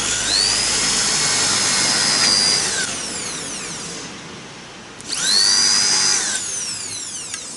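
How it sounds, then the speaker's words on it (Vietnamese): A power drill bores into the end of a pole, a loud high whine running for a few seconds, winding down, then revving up again close by. "đây anh em khoan lui xuống."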